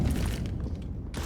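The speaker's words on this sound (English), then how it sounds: "Flashbang." Flashbang grenade detonating in CS:GO on the Office map, a dense, loud burst of low booming and crackling that holds steady for over a second before a brief high ringing swell returns.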